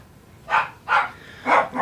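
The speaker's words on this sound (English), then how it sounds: "there goes my dogs" Dogs barking inside a house at people passing outside: four short, loud barks in an uneven rhythm, fairly close, with no talk over them.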